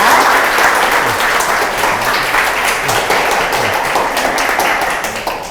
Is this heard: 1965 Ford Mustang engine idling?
no